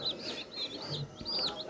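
Native Peruvidai country chickens on a farm make soft, repeated clucks and chirpy calls over about two seconds, faint and close, with no talk.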